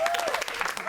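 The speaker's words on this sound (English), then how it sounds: "Give her a round of applause." A class audience at a DNA masterclass gives a brief burst of applause, many hands clapping together for under a second, moderately loud and close.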